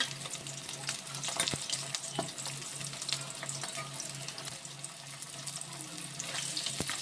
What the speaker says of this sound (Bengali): লাল লাল করেই ভেজে নেবো মাছটা